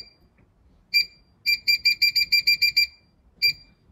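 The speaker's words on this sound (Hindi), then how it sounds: "अब मैं टाइमर दबाऊंगी 12 मिनट के लिए" Electronic timer on a cooking appliance, set for mutton meatballs, beeps: one beep, then a rapid run of about nine even beeps, then a final single beep. The beeps are clear and close, with quiet kitchen noise underneath.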